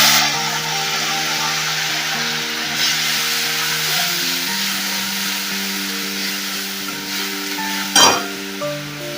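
Onion paste frying in hot oil and being stirred in a pan while cooking egg biryani, a steady close sizzle with soft scraping stirs throughout and a brief louder clatter near the end.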